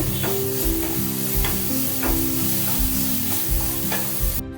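Grated ginger and chopped green chilli are stirred into a hot pan for a rice flour and potato snack, with a continuous sizzle, rhythmic spoon scrapes and knocks against the metal.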